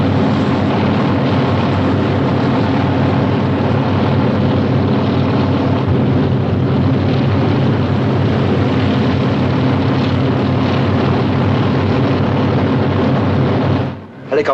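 A helicopter drones steadily overhead in a 1950 British film scene, its continuous loud rotor and engine rumble filling the whole stretch before cutting away briefly at the very end.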